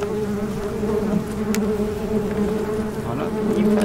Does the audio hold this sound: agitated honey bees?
yes